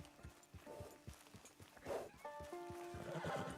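A horse whinnies with a shrill rising call, mixed with soft hoof thuds and game-like ambient tones, in Red Dead Redemption 2 Online.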